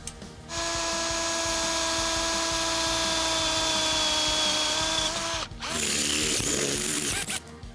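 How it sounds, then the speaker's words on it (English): Power drill boring holes through the steel frame rail of a 1995 Chevy S-10 pickup, a loud steady whine for about five seconds, a brief pause, then a rougher, shifting burst of drilling. "we can snug it down and drill the rest of our holes"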